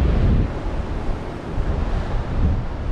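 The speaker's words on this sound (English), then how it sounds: "it's windy up here" Strong wind buffeting the microphone at a lighthouse on the Ring of Kerry in Ireland, a loud continuous low rumble with gusty swells, no speech.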